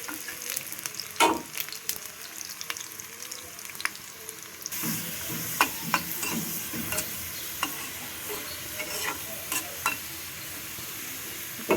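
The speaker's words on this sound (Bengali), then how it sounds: "এটা এখানে তেল আর পেঁয়াজ দিয়ে এখন আমি এটা বাগার দিয়ে দেবো হালিমটা" Onions frying in oil for a haleem tempering, a steady close sizzle with stirring scrapes and occasional clinks, growing denser and louder partway through.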